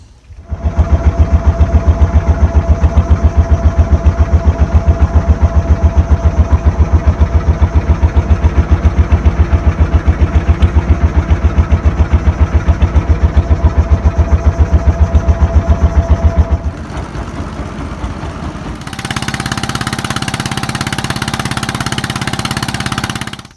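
A fishing boat motor runs loud and close at a river mouth, a steady throbbing drone that drops away near the end and gives way to a different, quieter steady noise.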